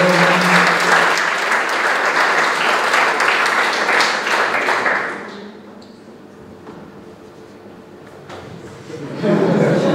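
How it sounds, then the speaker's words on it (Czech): Audience applause at a biology olympiad award ceremony, a broad, dense wash of clapping for about five seconds that then drops away, leaving a quiet room before a fresh burst of clapping begins near the end. "A ten potlesk se promíná k dalšímu oceněnému, kterým je Matěj Hrubel"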